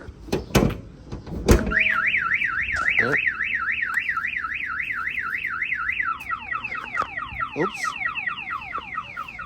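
A couple of sharp thumps, then a Toyota Camry's loud car alarm wails in a rapid up-and-down siren before switching to a faster chirping pattern; a voice briefly exclaims.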